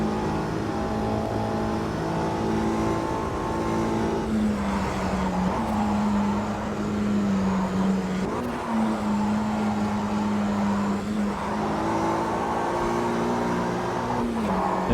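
A 1965 Mini Cooper S races at Sebring in the AMS2 sim, its engine droning loud and close with steady revs, pitch shifts through gear changes and small bumps, no speech over it.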